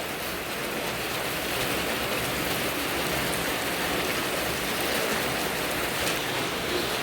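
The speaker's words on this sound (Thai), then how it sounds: "ฝนตก" Steady rain falls in an outdoor rural setting, a dense, even hiss of drops that holds at the same level throughout with no voices.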